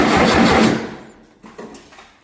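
A small petrol engine turns over roughly for a second without catching, then fades into a few faint knocks and rustles, heard close up.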